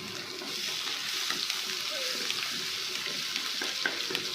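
Garlic frying in oil in a wok, a soft steady sizzle with light stirring taps, fairly quiet and continuous.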